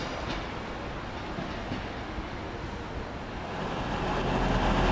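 Northern Rail train pulling out of a station bound for Wakefield Westgate, a steady rumbling roar of the train close by that grows gradually louder toward the end, with no talk.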